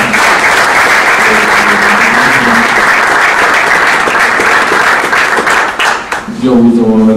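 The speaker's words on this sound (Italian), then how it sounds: "magari un applauso all'editore Falco, di Cosenza" Audience applause at an Italian book presentation in Cosenza, offered in tribute to a late local publisher: dense, loud and steady clapping from a crowd throughout, with a voice briefly rising over it near the end.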